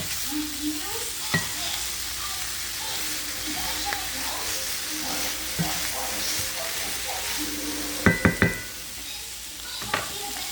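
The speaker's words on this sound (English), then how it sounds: "I like to get that butter to kind of cook and fry them" Green beans sautéing in butter in a pan, a steady close sizzle with occasional stirring scrapes and a few sharp utensil knocks near the end, with faint murmuring voices underneath.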